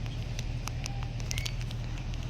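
Steady patter of rain with scattered sharper drips, over a constant low hum.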